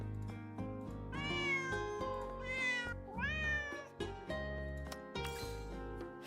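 A mascot cat in Girls' Frontline 2: Exilium meows several times in a row, some calls rising and bending, over steady background game music.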